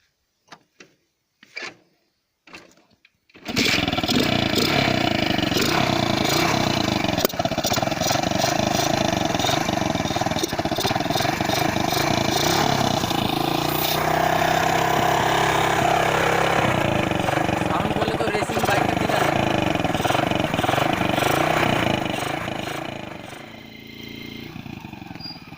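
A KTM Duke motorcycle engine running without an air filter, which catches after a few clicks and then runs loud and close with a steady, throbbing idle and slight revving for about twenty seconds before cutting off.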